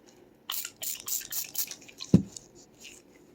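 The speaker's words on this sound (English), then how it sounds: "Spray it with salt water." A handheld spray bottle of salt water gives a quick series of short hissing spritzes, close and fairly quiet, followed by a soft thud.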